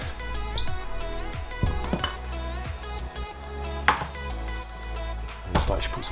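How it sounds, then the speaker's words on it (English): Beer bread dough is kneaded by hand on a floured surface, giving occasional soft thumps and slaps over a faint steady background hum. "just put some flour down and get it out on the deck and knead it"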